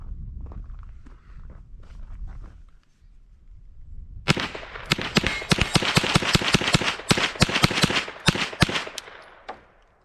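A Kel-Tec SUB2000 carbine fires a rapid string of loud, sharp shots that start a few seconds in and continue to the end, after quieter handling noises.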